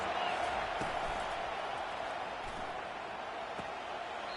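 A stadium crowd in the College Football 25 video game, with Oregon playing, roars as a steady, moderately loud wash, a few faint thumps within it, and no clear voice on top.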